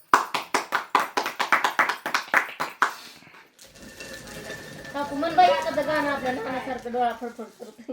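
An audience in a village gathering claps together in a burst of sharp, rhythmic applause lasting about three seconds, followed by a woman singing a mournful folk ovi about a mother and brother.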